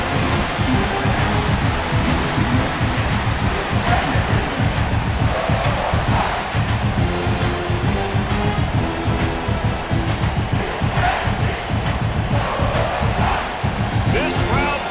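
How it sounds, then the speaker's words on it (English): A stadium crowd roars at a Clemson vs South Carolina college football game, a dense, loud and sustained wall of cheering and yelling with surging swells, and talk mixed in underneath. "This crowd bringing the energy and noise early."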